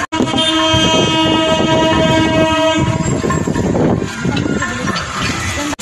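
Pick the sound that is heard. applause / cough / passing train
passing train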